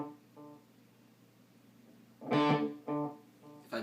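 A single open note on an electric guitar played quietly through a delay effect, its echoes repeating and fading, followed by a few louder plucked notes that also ring out and decay.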